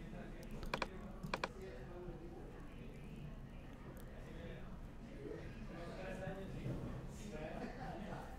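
A computer keyboard used while editing on a PC, with a few sharp keystrokes early on, then quieter activity under a low murmur of voice.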